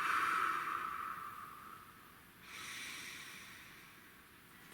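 A slow, deep breath drawn in and let out, close and soft, with a long airy inhale fading before a second gentle exhale, in a quiet room with no talking.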